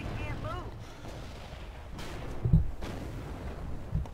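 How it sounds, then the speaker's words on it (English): Booming tank cannon fire in World of Tanks around a British Excelsior heavy tank, two sharp blasts roughly a second and a half apart over a low rumbling battle background, with no voices. "I'm now stuck, being shot at by multiple targets."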